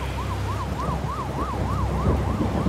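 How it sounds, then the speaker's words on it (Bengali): An ambulance siren wails in a steady rising-and-falling pattern, repeating about eight times over a low rumbling background with some wind, moderately loud and continuous, with no voices. "তখনই শুনতে পাই অ্যাম্বুলেন্সের শব্দ।"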